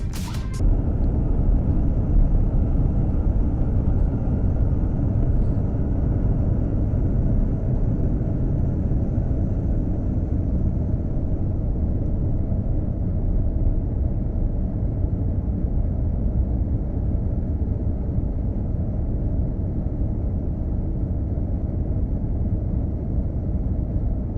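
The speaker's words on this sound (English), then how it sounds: "took a video of the plane taking off during the night" Airliner taking off at night from Urumqi, heard from a window seat inside the cabin as a loud, steady low engine roar and rumble that continues throughout.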